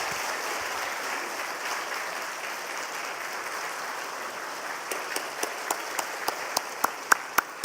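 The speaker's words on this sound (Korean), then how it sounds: "우리 수고하신 우리 목자님들 위해서 뜨거운 박수로 축하하십시다." A church congregation applauds during a Sunday worship service, a steady, moderately loud wash of clapping that settles into distinct, regularly spaced single claps toward the end.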